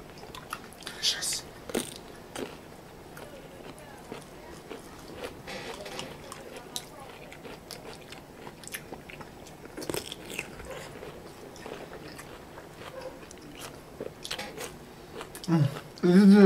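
Someone eats a spicy Thai salad of fresh squid and rice noodles up close, with repeated wet bites, crunches and chewing sounds, plus soft talking and a louder voice near the end.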